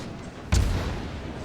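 A single heavy boom from the 4-inch deck guns of the USS Clemson destroyer in World of Warships cracks out midway, then leaves a low rumbling tail over quiet game ambience.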